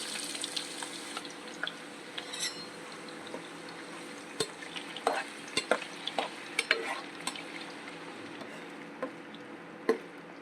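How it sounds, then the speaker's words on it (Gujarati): Sliced potato chips frying in well-heated oil in a pan as a bhindi (okra) curry is started, with a steady soft sizzle and scattered clinks and scrapes of a spoon stirring, fairly close, no talking. "તેલ આપણું સારી રીતે ગરમ થઈ ગયું છે. પછી ચિપ્સ આપણે બટેટાની એડ કરી દઈશું"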